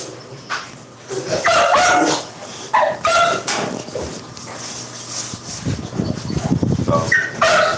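Dogs bark, yip and whimper in loud, overlapping bursts close by, restless and continuous across the stretch with hardly any pause.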